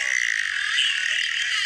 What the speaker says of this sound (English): This is what a dolphin sounds like.